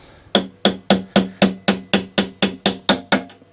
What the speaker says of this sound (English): Then get your hammer